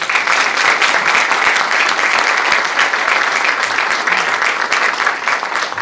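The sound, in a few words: applause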